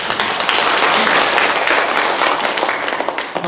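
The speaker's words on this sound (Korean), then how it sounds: "우리 박수 한번." A church congregation gives a burst of dense, steady applause on New Year's Eve, many hands clapping together at close range before the noise tapers off.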